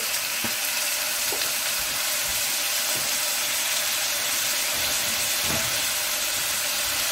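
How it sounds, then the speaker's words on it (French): Mussels tumbling into a hot pot for moules à la marinière, a steady broadband sizzle and hiss running throughout with a few soft knocks of shells and stirring, close and continuous with no talking. "ce qu'il y a à faire, c'est y verser nos moules"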